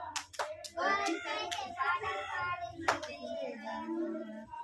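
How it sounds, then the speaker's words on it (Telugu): Hands clap along while voices sing a children's Sunday school song, with sharp claps breaking through the steady close singing. "చేతులెత్తి చప్పట్లు కొట్టి పాడెదము."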